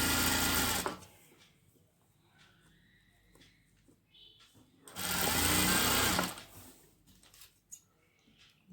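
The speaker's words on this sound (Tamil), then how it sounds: "இந்த மாதிரி அங்கங்கே இருக்கிற நூல்லாம் கட் பண்ணி நீங்கள் அழகாக ஃபோல்ட் பண்ணி ஸ்டிச் பண்ணுறேன்." A sewing machine stitching the falls along a saree edge runs in two loud, close bursts of rapid whirring, separated by a quieter stretch of light handling and fabric sounds.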